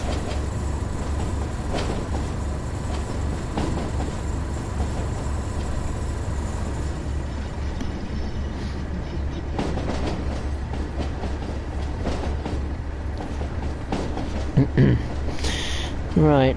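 A simulated train on the Tees Valley line in Train Sim World rumbles along with a steady low drone and rhythmic clickety-clack of wheels, while voices speak now and then over it.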